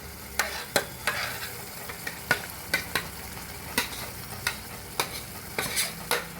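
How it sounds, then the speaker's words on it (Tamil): Cooked moong dal is stirred into wheat flour roasted in ghee for Thiruvaiyaru-style Asoka halwa: a ladle taps and scrapes the pan in regular strokes about every half second over a soft, continuous sizzle. "இப்போ நம்ம பாசிப்பருப்பு சேர்த்து நல்லா இது மாதிரி கிண்டணும்"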